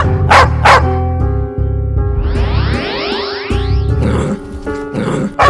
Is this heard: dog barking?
yes